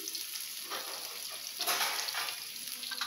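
Potatoes frying in oil in a covered pan give a faint, steady sizzle with soft bursts of crackle and a gentle swell in the middle, quiet and close, with no talking.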